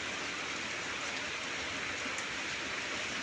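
Rain falling steadily near a house, a dense continuous hiss of drops on surfaces, even and moderately loud with no pauses and no talking.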